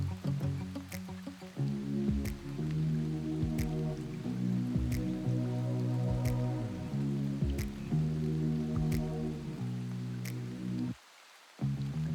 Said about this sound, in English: And just like that, we got rain on.